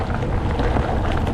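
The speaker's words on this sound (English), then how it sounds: "it's getting a bit windy" Strong wind buffets the microphone as a mountain biker rides down a hill, a loud, continuous low roar with rushing gusts and no voices.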